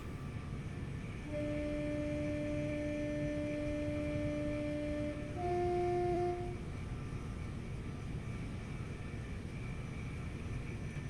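A steady low rumble and rattle of a commuter train running on the London Victoria to Brighton line in the video game Train Sim World 2, with two sustained horn-like tones sounding over it midway.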